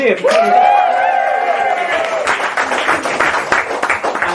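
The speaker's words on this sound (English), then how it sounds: "Can we give them a massive cheer?" A live audience at a podcast recording in a vegan cafe cheers and applauds loudly, sustained clapping and whoops filling the room close by, with voices mixed in.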